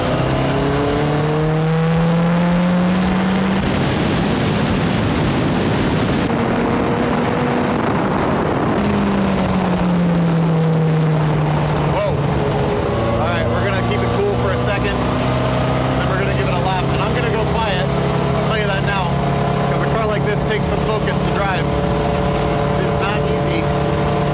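A K24-swapped Mazda Miata accelerates down a track's back straight, shifting through gears at close range, its pitch sweeping up and dropping repeatedly, with a person talking over the roar.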